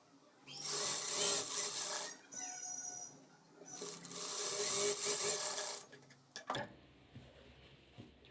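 A sewing machine stitches the dots on a blouse in three steady whirring runs, each a couple of seconds long, followed by a few soft mechanical clicks and handling taps at close range.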